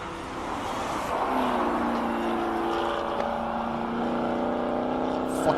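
A McLaren race car on a hillclimb lap at Simola, its engine a continuous mid-distance roar with rising pitch as it accelerates and shifts, steady and fairly loud throughout.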